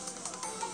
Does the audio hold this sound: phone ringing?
yes